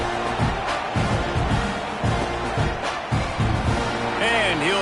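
A stadium crowd in the College Football 26 video game, at an Alabama game, holds a constant, dense roar throughout, with a commentator talking over it.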